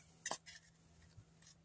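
Scissors make a quick, soft snip or two as a flap is cut off a sheet of white cardstock, quiet and close with a faint later rustle.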